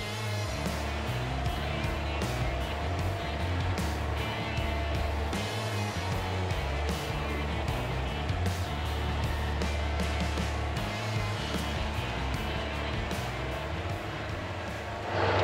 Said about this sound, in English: now we'll drive it and we'll see how it feels